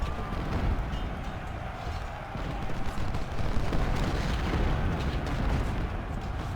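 Dense, rumbling artillery fire on the Shiloh battlefield in Ultimate General: Civil War, booming cannon shots blending into a continuous roar of battle with scattered sharp reports.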